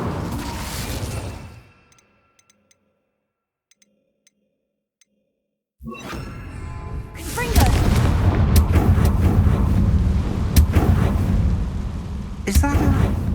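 After a near-silent gap with a few faint ticks, the Incendio fire spell in Hogwarts Legacy erupts into a loud, sustained roar of flame with crackling bursts and heavy thumps.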